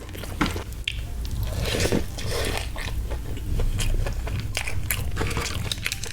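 Crispy chopped fried chicken from a large tray is bitten and chewed close up, with loud, dense crunching and crackling that continues steadily, along with some wet chewing.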